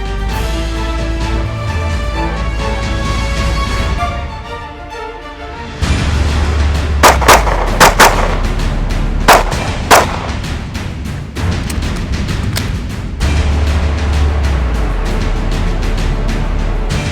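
Live gunshots at an outdoor shooting range drill with movement, cover and a reload. Several sharp, loud reports come in an irregular cluster, with pauses between them, over steady background noise. Nobody speaks.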